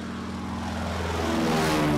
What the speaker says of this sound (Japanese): この飛行機も大変ですね。